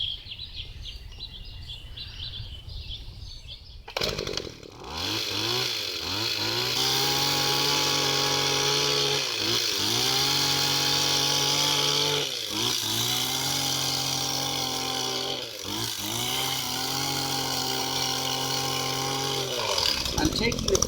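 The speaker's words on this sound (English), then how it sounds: "I'm just going to use a gas-powered hedge trimmer." A Kawasaki gas-powered hedge trimmer roars to life and cuts through dense foliage, a loud, steady buzzing two-stroke drone with brief dips and revs as the blades work through the shrubbery, birds faintly chirping beforehand.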